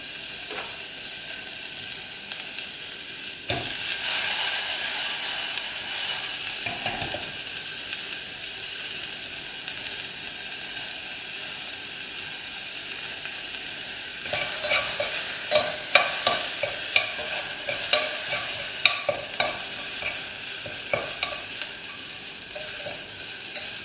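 Onions sizzle steadily in a pan while being cooked soft for South Indian uppuma, and a utensil stirs them, with clusters of scraping taps in the second half, close up with no talk.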